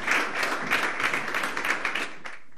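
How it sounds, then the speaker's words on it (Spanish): Sustained audience applause closes a business trends forum panel, with dense clapping held steady for about two seconds before tapering off. "Yo creo que se han ganado un aplauso nuestros ponentes."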